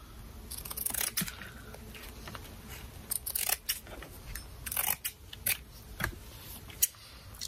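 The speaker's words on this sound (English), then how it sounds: "So I'm gonna cut all this extra." Scissors snip through material for a Dollar Tree Christmas ornament, a run of close, sharp irregular cuts with short pauses between them over a faint room hiss; no one speaks.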